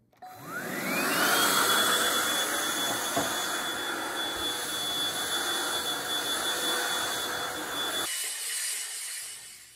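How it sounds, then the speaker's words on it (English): A Bissell pet hair vacuum spinning up to a steady, whining roar while cleaning a couch with attachments, running close and continuous for several seconds before the motor cuts off. "take apart the couch and get it vacuumed out with some different attachments"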